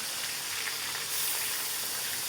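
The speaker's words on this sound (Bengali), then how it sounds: "এটি কিছুক্ষণ ভাজবো, মোটামুটি ভাজি হয়ে গেলে পরে আবার নামাই দেব" Large pieces of catla fish fry in hot oil, giving a steady, dense sizzle and hiss that fills the whole moment, close and even, with no voices.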